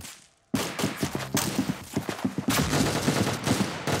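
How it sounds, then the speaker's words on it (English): A nail gun fires in a rapid, uneven string of loud, close bursts with a short pause midway, preceded by a moment of near silence. "Nail gun."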